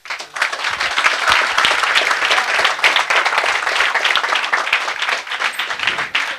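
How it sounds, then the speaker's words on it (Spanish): A lecture-hall audience at a university conference applauds speaker Emir Sader. The steady, loud crowd clapping carries on without a break for several seconds. "les pido nuevamente un fuerte aplauso para el compañero Emil Sade"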